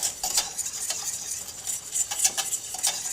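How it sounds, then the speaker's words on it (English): A pot on the stove stirred over lowered heat, with soft repeated scraping and light clinks of a utensil against the pot in a loose rhythm, close and fairly quiet. "Stirring up, turning your heat down just a little bit so it's a little bit easier to control the heat on the pot"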